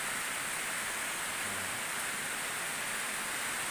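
Steady rain falling over a banana plantation, a dense, even hiss of drops on leaves and ground with no breaks, moderately loud and continuous with no voices.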